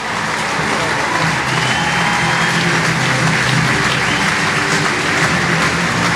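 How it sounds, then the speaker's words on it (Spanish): Loud, dense applause at an honours ceremony where silver pins are awarded, many hands clapping steadily and close by, with a low murmur of crowd beneath. "Un aplauso."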